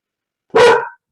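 A dog barks once, loud and close, in a quiet home during an evening online panel discussion, a single sharp burst with nothing else around it.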